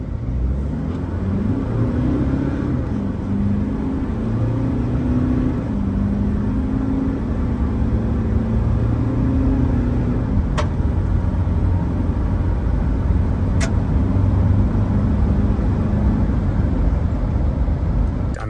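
A modified Toyota Land Cruiser 79 with a 2.8 GD-6 diesel and automatic gearbox drives and accelerates, its engine note rising steadily through a continuous low rumble from start to finish.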